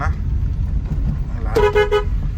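A short Tata Nano horn toot sounds twice over the low rumble of the car at the Electronic City NICE Road exit in Bengaluru, with a voice speaking briefly before it.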